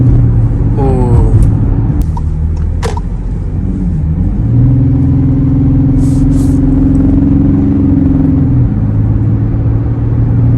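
A VW Atlas with a 3.6L VR6 engine and ram air intake idles with a loud, steady rumble, then rises to a higher held rev before dropping back down.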